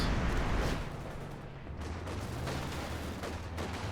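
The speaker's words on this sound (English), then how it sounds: "Okay, light artillery barrage here, I guess. Oh no, actually anti-tank strafe." Artillery barrage and anti-tank strafing in a WWII real-time strategy match, a dense, continuous roll of booms and gunfire that is loudest at the start and stays rumbling throughout.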